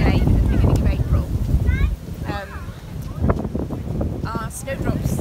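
On a cold, blustery April evening in a Fife garden, wind rumbles and buffets loudly against the microphone in gusts, with birdsong chirping faintly through it.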